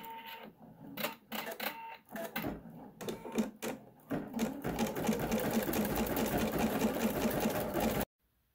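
An embroidery machine stitches out a red outline on a Kimberbell Sweet Land of Liberty pillow block, first in short rapid bursts of needle clatter, then in one sustained close mechanical run that stops abruptly.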